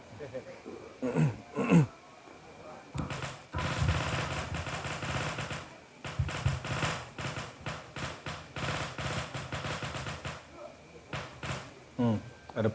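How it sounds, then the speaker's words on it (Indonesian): Firecrackers pop in rapid, crackling strings for several seconds at a moderate distance, with scattered thumps before and after. "Ada petasan."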